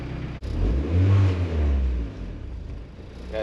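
A boosted Suzuki G23BK engine fires up and revs, a loud, close mechanical rumble rising and falling through a couple of throttle blips, with the idle continuing unevenly afterward and no talk.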